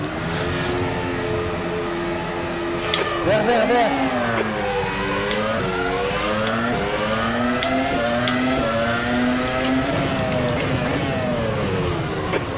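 Formula race car engine lapping the Zandvoort circuit in rFactor 2, a steady loud whine rising and falling through gear changes, with nearby cars passing, throughout under occasional talk.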